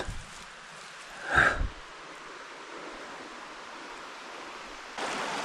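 A small forest river flows in a soft, steady rush, faint and continuous, broken by a brief close snuffling burst early on and a louder swell of noise at the very end.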